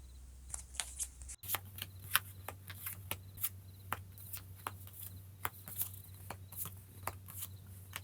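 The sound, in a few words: shuffling tarot cards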